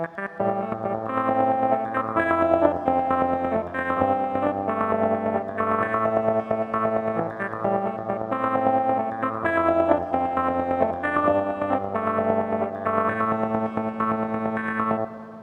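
A Casio VA-10 plays thin, lo-fi electronic keyboard chords pulsing in a steady accompaniment-modulated pattern, with a gritty, distorted and slightly echoing tone throughout, no voices.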